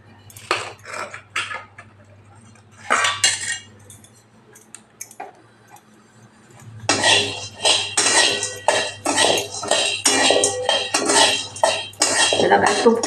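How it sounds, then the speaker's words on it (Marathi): Charoli nuts dry-roasted in a pan with no ghee, stirred so they rattle and scrape against the metal in dense clattering bursts, sparse at first and then steady and louder through the second half. "थोडंसं हे भाजून घ्यायचं"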